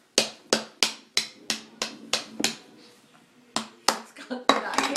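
A child strikes a nail with a toy hammer, giving a run of sharp, close taps at a steady rhythm that pauses and then starts again with a few more hits, with faint background sounds between them.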